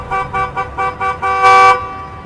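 A car horn honks in a string of short, evenly spaced toots, then one longer, louder blast, with no one speaking.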